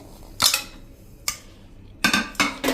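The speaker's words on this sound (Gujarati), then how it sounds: "આપણે આઈસ ક્યુબ એટલે કે બરફના ટુકડા 2 પ્લેટ આપણે નાખી દેવાના છે" Ice cubes drop into a pressure cooker holding kidney beans, landing as a handful of sharp, clattering clunks spaced across a quiet moment, with a quick cluster of knocks near the end.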